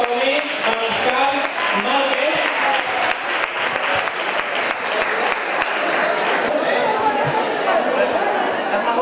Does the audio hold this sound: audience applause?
yes